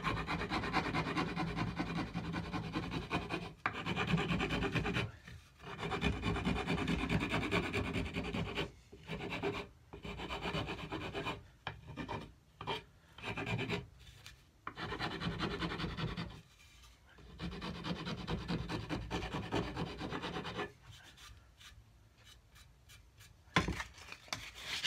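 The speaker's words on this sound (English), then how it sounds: "I'm ready to start sanding this now" A wooden cigar box guitar neck being sanded by hand, with repeated rasping rubbing strokes, near and steady, broken by short pauses toward the end.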